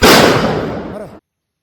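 A loud crackling burst of firecrackers erupts at once, rattling and popping densely for about a second before cutting off into silence.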